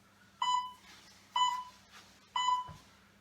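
A workout interval timer gives three short, evenly spaced electronic beeps about a second apart, clear and moderately quiet against a faint steady hum.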